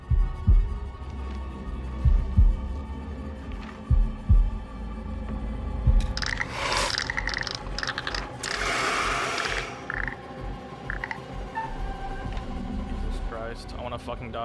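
A tense heartbeat effect in the horror video game House of Ashes, heavy low thumps repeating steadily, later buried under louder mechanical game noise and rumble, with a player talking over it.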